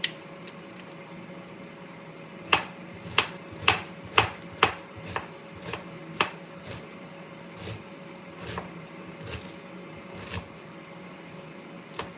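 A knife dicing onions finely for sautéing in an enchilada recipe, heard as a run of sharp, close chopping taps, quick at first and then slowing and softening, over faint kitchen background.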